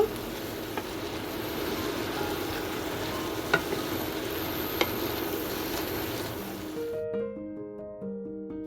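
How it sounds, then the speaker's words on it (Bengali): A spice paste of coriander powder, red chilli and Kashmiri chilli fries in a pan for a fish-head curry, a steady close sizzle with occasional spoon taps, giving way to a few soft musical notes near the end. "এবার মশলাটা আমি ভালো করে কষে নেব।"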